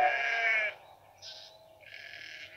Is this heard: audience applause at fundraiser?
no